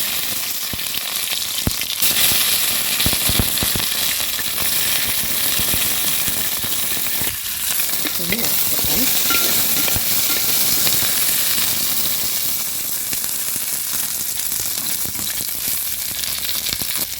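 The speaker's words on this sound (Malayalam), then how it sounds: "അതിലേക്ക് 2 ടേബിൾ സ്പൂൺ എണ്ണ ഒഴിച്ച് കൊടുക്കാം. വെണ്ടക്ക ഇട്ട് കൊടുക്കാം. വെണ്ടക്ക വറുത്തെടുക്കാം കേട്ടോ." Okra sizzles in about two tablespoons of hot oil in a pan, a continuous loud crackling hiss with scattered sharp pops and occasional stirring noises.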